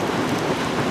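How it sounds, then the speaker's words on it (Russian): Heavy rain pours steadily during a summer thunderstorm in Kimovsk, a dense, even roar of downpour close by with no break and no voices. "Во, волна идет дождя."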